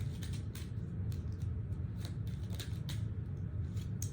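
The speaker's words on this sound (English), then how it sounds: "Shuffling for Aries." Oracle cards being shuffled by hand, with soft repeated papery flicks and light clicks in a steady rhythm, close but quiet over a low background hum.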